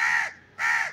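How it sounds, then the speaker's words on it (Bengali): Two loud, harsh crow caws close by, each about a third of a second, separated by a short pause. "ওই যে এই যে কাক চলে আসছে"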